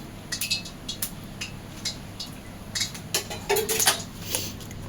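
A spoon clinks against a bowl while a spoonful of hot oil is added to a gram-flour batter for vada pav and bhaji, with a series of light, close metallic taps and scrapes in a quiet kitchen.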